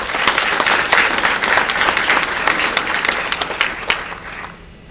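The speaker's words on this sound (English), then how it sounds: "I give you a round of applause." Audience applause fills the room steadily with dense clapping at a sustained level, then tapers off quickly in the final second.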